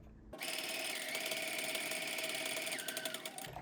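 A sewing machine stitches the back seam of a pencil skirt at a long stitch length, starting abruptly and running in a fast steady whir before slowing and stopping near the end.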